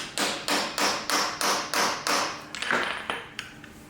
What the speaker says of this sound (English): And then I slide hammer it out.